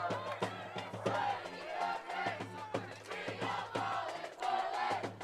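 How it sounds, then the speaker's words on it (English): A crowd cheers in the fourth quarter of a high school football game at Thompson Stadium in Macon, a fairly loud, continuous mass of voices with shouted calls rising and falling throughout. "Crowd still into it here at Thompson Stadium in Macon."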